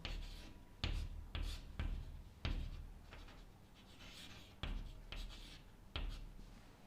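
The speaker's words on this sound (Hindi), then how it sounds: "सबसे पहले तो मैं एक दफ़ा क्वेश्चन दोबारा लिख लेता हूँ" A marker taps and squeaks in short, separate strokes as a math teacher writes out a decimal division question by hand, close and fairly quiet with pauses between strokes.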